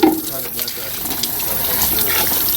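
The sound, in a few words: running water washing off beef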